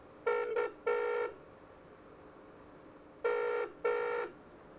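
A telephone ringing after a number is dialed through a GSM phone patch on a radio repeater, two double-burst rings separated by a quiet gap, clear and fairly close.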